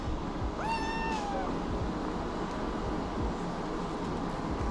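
One short kitten meow sounds up close near the start, followed by several seconds of low, steady room noise with no voices.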